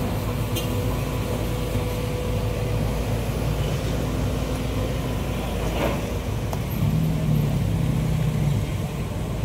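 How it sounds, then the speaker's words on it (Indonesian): A truck runs steadily at a construction site where a dried-up river channel is being levelled, a continuous low engine rumble with broadband noise that swells slightly near the end. "Satu truk sudah berjalan."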